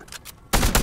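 Rapid gunfire from a Star Wars lightsaber video game erupts suddenly after a quieter stretch, a dense, loud burst of overlapping shots with no speech.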